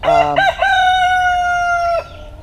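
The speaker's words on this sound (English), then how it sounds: "obviously the roosters are having a showdown" A single rooster crows loudly and close by, a long sustained cock-a-doodle-doo lasting about two seconds, with a few short clucks at the start.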